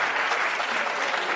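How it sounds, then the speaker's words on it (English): A conference audience applauds, dense steady clapping from many hands filling the room at an even level throughout, with no speech over it. "I would love to have my South African friends and colleagues applaud this situation in the United States"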